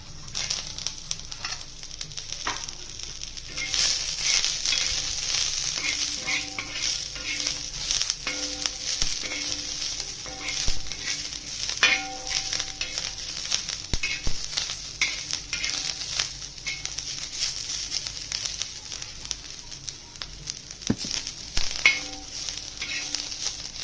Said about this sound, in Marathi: त्यातच कोथिंबीर भाजते आता